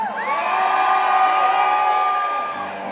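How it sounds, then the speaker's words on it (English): A crowd cheers close and loud, with sustained whoops and high shouts, some childlike, swelling and holding for a few seconds before easing off slightly at the end. "Can you cheer for him? Can you cheer for him?"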